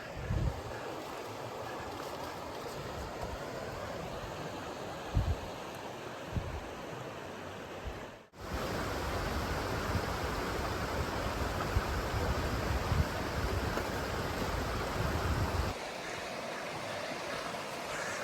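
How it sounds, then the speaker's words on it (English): A river rushing along a valley on a bush walk between Mount Victoria and Blackheath gives a steady, broadband roar of flowing water. It stays constant throughout, with a brief dip about midway, and no one speaks. "it's honestly beautiful listening to that water rushing the whole way"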